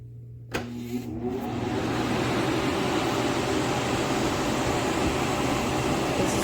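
An LZLXXLZL air mover blower fan in a basement switches on with a click and spins up into a loud, steady broadband whoosh of rushing air with a faint hum underneath, continuing evenly.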